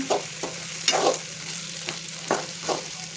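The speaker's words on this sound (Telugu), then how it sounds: "గరం మసాలా ధనియాల పొడి వేసేసుకొని కలుపుకుంటున్నాము చూడండి" Prawn curry with garam masala and coriander powder being stirred in a pan, a steady low sizzle beneath a handful of distinct scraping strokes spaced about half a second to a second apart, close and fairly loud.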